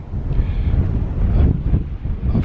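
Wind buffets a microphone up on open moorland, gusty low rumbling that swells and dips unevenly, loud and close with no other sounds.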